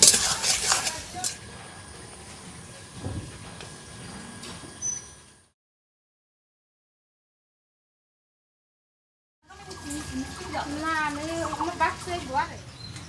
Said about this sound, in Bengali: তারপর ওই তেলের মধ্যে বেগুন দিয়ে তারপর লবণ হলুদ দিয়ে এবার নেড়ে চেড়ে থেকে ভালো করে ভেজে নেব